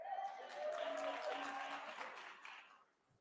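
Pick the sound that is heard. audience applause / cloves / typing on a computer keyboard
audience applause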